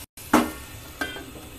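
A lid is set onto a pot of simmering prawn malaikari with milk, giving two clanks about a second apart, the first louder, over a faint steady sizzle.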